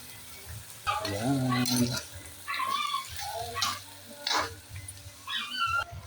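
Sizzling from a pan of native chicken adobo in coconut milk as chili goes in, a steady frying hiss with stirring, under a voice speaking at intervals.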